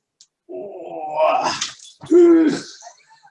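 A puppy makes two short whiny, groaning vocal noises close by, separated by a brief pause, in an otherwise quiet room.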